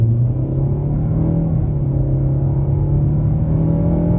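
A 2023 Nissan Altima SL accelerates at half throttle, giving a steady, close engine drone with road rumble that holds a fairly even pitch throughout.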